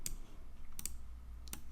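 Return key presses on a computer keyboard while working in Adobe Illustrator, three sharp separate clicks spaced about seven tenths of a second apart, close and fairly quiet over a low steady hum.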